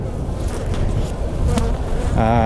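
Honey bees drone in a dense, continuous buzz close around an opened hive full of honeycomb, with a louder pitched whine near the end.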